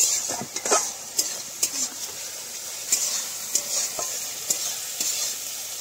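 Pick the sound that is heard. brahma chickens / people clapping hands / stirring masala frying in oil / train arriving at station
stirring masala frying in oil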